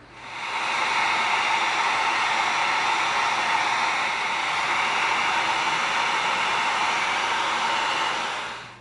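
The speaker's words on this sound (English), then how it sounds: "Now we're going to heat seal these real quick" Heat gun blowing hot air to seal the edges of EVA foam strips, a steady loud whooshing hiss that starts up, holds evenly for several seconds and then cuts off.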